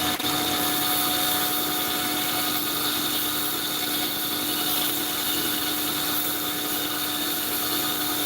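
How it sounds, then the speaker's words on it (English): A running sanding belt is cleaned with a rubber belt dresser glued to a wood block, producing a continuous loud machine whir and abrasive hiss throughout with no talking. "what I'm using it's called a belt dresser. It's a piece of rubber that attaches, that is glued to a piece of wood."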